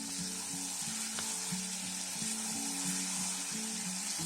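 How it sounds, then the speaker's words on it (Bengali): Chicken and elephant foot yam fry in a pan, with a constant hissing sizzle and a rhythmic clatter of repeated stirring strokes underneath, and no talking. "এইভাবে ভালো করে বারবার নাড়িয়ে নাড়িয়ে চিকেনটাকে এইভাবে রান্না করে নিতে হবে"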